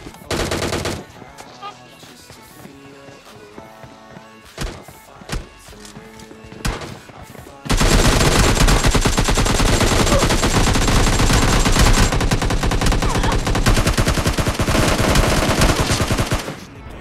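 Gunfire in the mobile battle royale game PUBG Mobile Lite, with sparse shots over game music at first, then a loud, dense, continuous burst of rapid automatic fire that dominates the second half.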